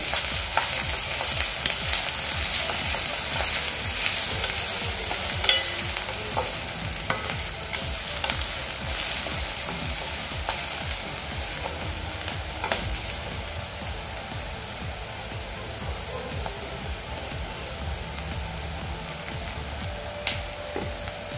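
Chillies and onion sauté in a pan with a steady crackling sizzle and frequent spatula scrapes and stirs, close up and continuous.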